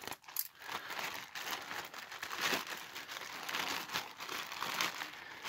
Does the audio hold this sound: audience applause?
no